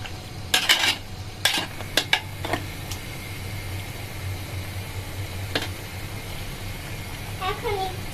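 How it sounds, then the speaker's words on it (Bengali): Beef biryani, cooked Old Dhaka cook style, stirred in a pot, with a burst of close metallic scrapes and clanks at first, then a soft simmering hiss, and a voice speaking briefly near the end. "নাড়া দিয়ে আস্তে আস্তে সিদ্ধ দিব।"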